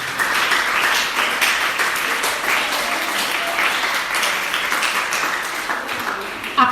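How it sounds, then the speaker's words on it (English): Students of a science school audience applaud at a school event, with dense, steady clapping that holds loud and even throughout the short stretch before ending abruptly. "Please clap for yourselves."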